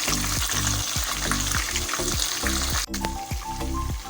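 Tomatoes and chopped ginger tumble into browned onions frying in a pan, giving a steady close sizzle with repeated low scraping stir strokes in an even rhythm.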